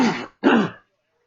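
A man clears his throat twice in quick succession, two short harsh rasping bursts, close and loud, followed by silence.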